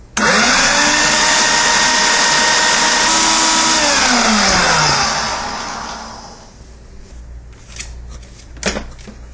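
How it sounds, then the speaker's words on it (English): A food processor grinds powdered sugar for pistachio macarons with a loud, whirring blade roar that runs for about five seconds, then winds down and stops, followed by a few faint clatters. "we want to pulse this, or grind this until it's a very fine powder."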